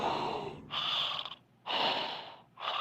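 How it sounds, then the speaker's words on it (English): Heavy breathing over a radio call-in phone line, three loud, drawn-out breaths in a steady rhythm, separated by short stretches of near-silent dead air. "All I hear is breathing and dead air."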